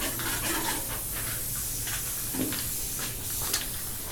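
An aerosol spray paint can hisses in a steady, continuous wash with a few soft bursts layered over it, fairly close and with no talking.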